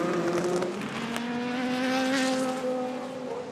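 Endurance race cars, including a Ferrari, race past at Imola circuit during the European Le Mans Series 4 Hours, with a steady, loud, high-pitched engine whine holding throughout.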